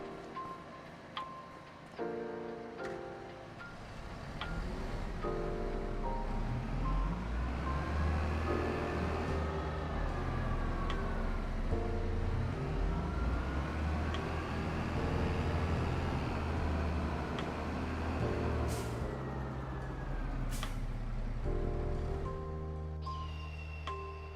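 A tractor in Farming Simulator 25 rumbles as it is driven away, a loud, continuous low engine drone that swells and eases with shifting pitch, accompanied by faint mechanical clatter and no talking.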